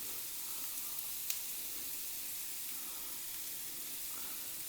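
Onions salted and sautéing in a pan for a Kerala-style chicken curry give off a faint, steady sizzle with a single small clink near the start.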